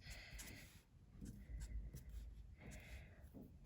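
A pen scratches on paper while chemical structures are drawn, short quiet strokes in bursts with pauses between, faint and close.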